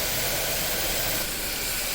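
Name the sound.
curry leaves sizzling while tempering for millet pongal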